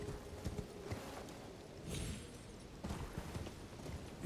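Steady clip-clop of horse hooves in Elden Ring at a quick, rhythmic pace, moderately loud, with a low rumbling background and no voices.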